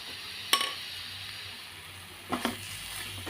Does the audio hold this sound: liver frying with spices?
yes